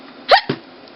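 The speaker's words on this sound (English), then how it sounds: "Did it get rid of the hiccups?" A cartoon character hiccups once, a sharp loud squeaky gulp followed quickly by a lower second burst, then silence.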